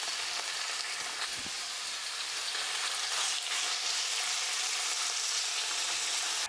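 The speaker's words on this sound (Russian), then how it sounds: "В разогретую сковородку наливаем немного растительного масла и отправляем мясо жариться." Diced chicken fillet fries in vegetable oil in a preheated skillet, a dense, steady sizzle that stays loud and close throughout with no talking.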